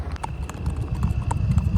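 A mare walks with steady hoof clip-clops, close and fairly loud, over a low rumbling background.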